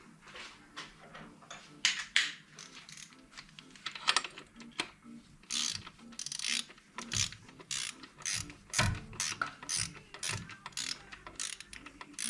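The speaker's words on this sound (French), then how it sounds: "je vais prendre la clé à la main" A hand wrench ratchets around a BMW M3 E46 crankshaft, a quick run of close, crisp clicks coming in bursts of varying speed, with no voices.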